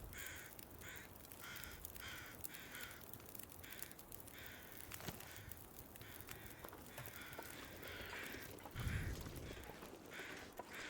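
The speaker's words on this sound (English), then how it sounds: "Thank you, crows. As noisy and as annoying you are." Crows cawing repeatedly in The Long Dark, a steady run of harsh calls at moderate distance over a constant windy ambient bed, with no talk.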